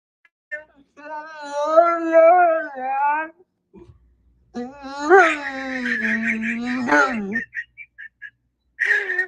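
A dog howls and whimpers in long, wavering tonal cries, first one sustained stretch, then a pause with a soft sound or two, then a longer, louder howl and a final brief whine.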